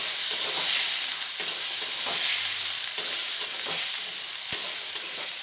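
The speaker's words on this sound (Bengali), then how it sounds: "আলুটা একটু নাড়াচাড়া করে নেব।" Small diced potatoes frying in a pan for a banana flower dish: a loud, continuous hiss of frying with a few sharp spatula knocks and stirring scrapes, close by and without speech.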